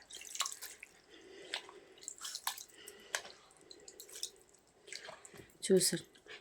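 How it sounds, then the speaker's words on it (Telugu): Tamarind water is poured into a stone mortar while making a curry leaf chutney, giving a run of scattered close drips and splashes in short bursts with quieter gaps between them. "ఆల్రెడీ చింతపండు వాటర్ ఉందిగా, అది వేసేసి ఇలా రోట్లో ఇలాగనేసి ఆ వాటర్ దీంట్లో వేసేయాలన్నమాట"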